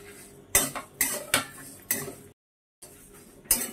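A metal spoon stirs and scrapes whole fennel, cumin, coriander and panch phoron dry-roasting in a pan, giving sharp intermittent clinks and scrapes with a short pause between strokes.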